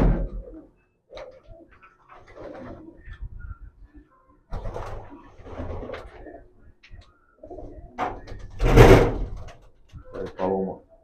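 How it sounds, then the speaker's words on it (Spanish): Racing pigeons, squabs and adult birds, in a loft in Matanzas, give soft cooing calls in irregular bursts, with a louder close burst near the end and some faint knocking in the background. "Aquí hay pichones y hay palomas adultas"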